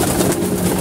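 A paired pigeon being fed gives a short, close, low coo that fills the brief moment loudly, with no voices present.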